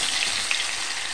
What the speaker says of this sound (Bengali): এইভাবে বাকি মাছগুলি ভেজে নেব